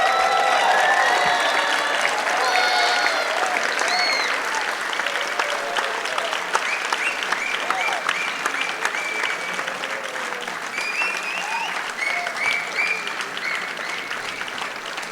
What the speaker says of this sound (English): can you please raise and give a final standing ovation before you break for dinner?